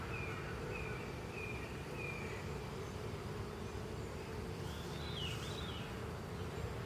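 Honey bees buzzing steadily inside an open hive during an inspection, a dense continuous hum filling the background with a few faint higher tones drifting over it.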